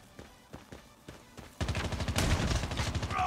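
Gunfire rings out in a Call of Duty Mobile 1v1 duel, starting with a few spaced single shots before breaking into a loud, dense burst of rapid automatic fire that continues to the end.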